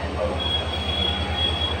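Steady train noise at a railway station platform near KSR Bengaluru, a continuous metallic rumble with a faint squeal of wheels, close by and unbroken, with no voices.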